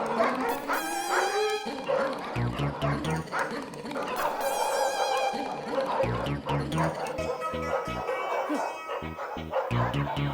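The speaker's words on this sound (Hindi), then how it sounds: "ऊपर से कुत्ते भी भौंक रहे" Several dogs bark repeatedly in short bursts at night in a residential street, close and fairly loud, mixed with people talking and background music of a sitcom scene.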